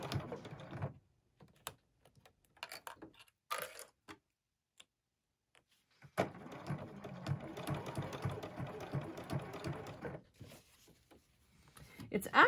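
A sewing machine runs close by, top-stitching binding on batik canvas in short stop-start bursts and then one sustained run of rapid stitching, with quiet pauses between.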